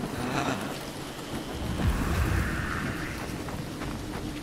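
A thunderstorm in Call of Duty Black Ops Cold War: steady heavy rain hiss with a deep rolling thunder rumble swelling in the middle, no talk over it.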